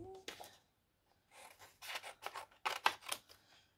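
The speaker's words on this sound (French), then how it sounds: "Donc là, on va se le découper ciseaux ici" Scissors snip through paper in several short, crisp cuts, close and quiet, with brief pauses between the strokes.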